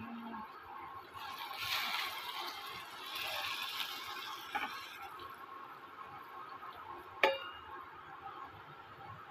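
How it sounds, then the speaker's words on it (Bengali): Water is poured from a cup onto rice and lentils in a pot for khichuri, a soft splashing trickle that runs for a few seconds, followed by a faint sharp clink. "এখানে আমরা এখন 2 কাপের মতন জল দিয়ে দেব"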